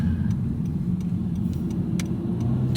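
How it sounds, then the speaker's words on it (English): A 2022 Honda Civic Sport 2.0 cruises on the highway, giving a steady low engine and road drone with faint periodic ticking over it. "And now driving Honda Civic on the highway."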